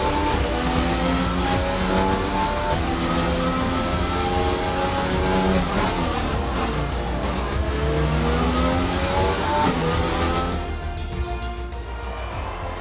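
Formula 1 race car engine in F1 2020 at the Azerbaijan Grand Prix, a loud continuous high-revving whine with rising and falling gear sweeps, dropping away after a final pass near the end.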